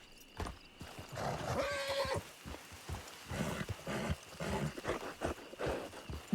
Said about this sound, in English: Such a beautiful horse.